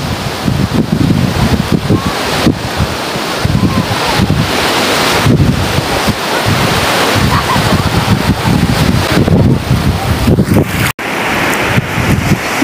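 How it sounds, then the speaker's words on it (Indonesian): Ocean waves roll onto Siar Beach near Kuching, Malaysia, as a steady, loud broadband surf roar mixed with heavy wind buffeting on the microphone, continuous throughout. "Ombak."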